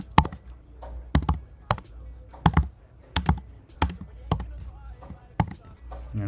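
Code typed on a computer keyboard in a series of sharp, close keystroke clicks arriving in short irregular bursts, with a voice faintly present.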